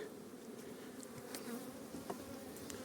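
Honeybees from an open hive being expanded to prevent swarming buzz steadily and quietly close by, a continuous drone with a few individual bees passing near.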